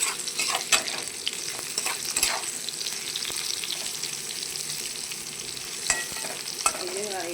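Pointed gourd (potol) fries in a pan with a steady, soft sizzle, broken by scraping stirs and light clinks of a utensil against the pan, heard close up with no talking.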